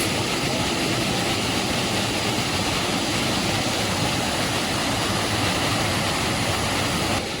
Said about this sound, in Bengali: ভীষণ জলের আওয়াজ